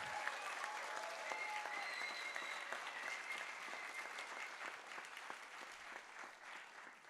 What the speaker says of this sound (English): a big applause for local group Niš for hosting the council meeting once more